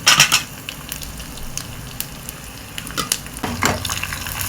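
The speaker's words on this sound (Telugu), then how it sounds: "ఆయిల్ పెట్టుకొని ఆయిల్ హీట్ ఎక్కిన తర్వాత ముందుగా దంచి పెట్టుకున్న వెల్లుల్లిపాయలు వేసుకోవాలి." Crushed garlic, dried red chillies, mustard seeds and cumin sputter and sizzle in hot oil for a Telugu pappu pulusu tempering, a steady close crackle broken by sharp pops and the scrape of stirring, with no talk.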